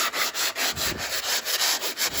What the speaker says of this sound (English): I'm gonna sand everything down. I have one of those blocks.